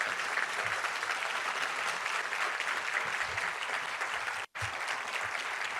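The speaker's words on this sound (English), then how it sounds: "they deserve a big round of applause" Sustained applause from a large audience honoring Texas House and Senate members, dense steady clapping that fills the room for several seconds with a brief cut near the end.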